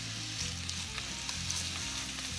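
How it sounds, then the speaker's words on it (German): Onions sizzling in hot oil at the start of a Hungarian goulash, a steady close crackle and hiss with small pops and occasional stirring, no voices. "Unser Öl ist nun heiß. Nun kommen unsere Zwiebeln"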